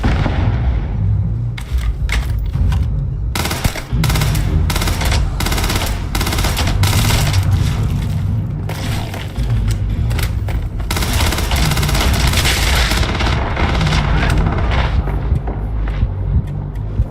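Loud, sustained gunfire in the sci-fi game Starfield, rapid automatic bursts with booming impacts that keep going almost without pause, close and dense throughout.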